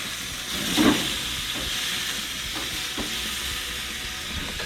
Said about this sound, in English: it's getting a nice sear on the meat